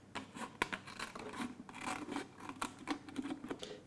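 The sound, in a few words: scissors cutting plastic bottle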